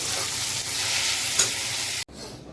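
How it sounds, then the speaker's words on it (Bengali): Cardamom, cloves, cinnamon, onion and tomato frying together for a masala, giving a steady, loud, close hiss of sizzling oil that cuts off abruptly near the end. "এলাচ, লবঙ্গ, দারচিনি, পেঁয়াজ, টমেটো এটা ভেজে নেব, ভেজে মশলা করব"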